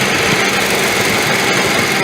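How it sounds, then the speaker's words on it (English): A Scion/Toyota engine idles with a newly installed PCV valve while the cooling fans run, giving a steady, loud, unbroken hum with no distinct knocks or hiss and no talking. "The fans were running and the engine was at idle, and it's making absolutely no noise"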